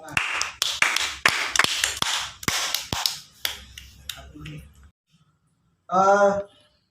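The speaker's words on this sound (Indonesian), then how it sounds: "Tepuk tangan." A classroom breaks into applause, a burst of hand claps lasting about five seconds that thins out toward the end, followed after a pause by a short voiced shout.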